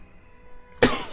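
One short, sharp cough bursts out close by after a near-silent pause, during a tabletop board game session.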